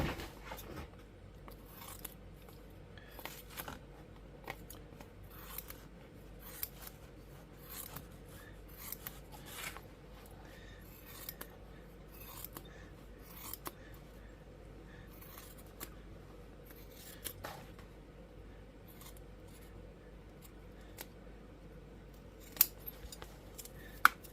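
Scissors trim leather for a tooled rifle sling, giving a long run of faint, close snips and rasping cuts at an uneven pace with short pauses between them.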